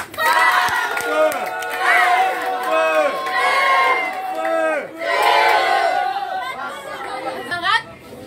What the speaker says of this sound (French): Sous vos acclamations, Adama Sall